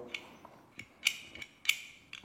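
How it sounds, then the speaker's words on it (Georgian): A pistol barrel slides back and forth during a disassembly demonstration, making a few short, crisp metallic clicks and scrapes, close and quiet, with no talk. "მოგეხსენებათ, რომ იარაღის მუშაობის პრინციპი არის ლულის ჩაძირის პრინციპით, აი ესე მოძრაობს ლულა."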